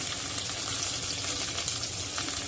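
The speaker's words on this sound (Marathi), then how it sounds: "मिरची आणि लसूण छान असं परतून घेऊया" Green chili and garlic sauté in a pan, giving a steady, close hiss of frying oil that continues evenly throughout.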